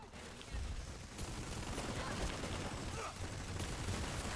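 Rapid gunfire from a weapon in the video game Planetside 2, a dense continuous burst of shots with a few brief lulls, moderately loud and steady throughout.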